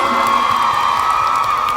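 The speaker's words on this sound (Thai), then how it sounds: "ปรบมือให้หน่อยแล้วปรบมือให้หน่อย" An audience at a press conference for Youngjae's Asia tour in Bangkok cheers and claps, a brief, steady and loud wash of crowd noise.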